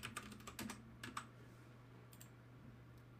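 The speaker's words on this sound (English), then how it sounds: "I'm just typing Poet Technologies" Rapid keystrokes on a computer keyboard, a quick burst of clustered clicks at the start that thins to a few scattered taps, close and fairly quiet, with no talking.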